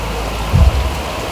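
Light drizzling rain falls in a steady close hiss outdoors at a Bujangganong dance event, with a brief low rumble rising midway before fading back into the even patter.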